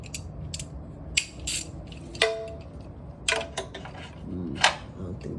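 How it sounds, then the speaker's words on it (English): A normal ratchet turning a 10 millimeter socket during a water pump and gallery gasket job on a G37/G35 engine, several short bursts of clicking separated by pauses, close by over a low background hum. "And just use a normal ratchet."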